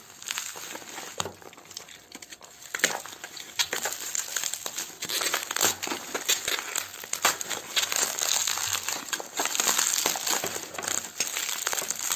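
Crinkly plastic packaging being opened around a boxed magnetic maglev speed cube (RS3M V5), with steady close crumpling and rustling that continues throughout, with no talking.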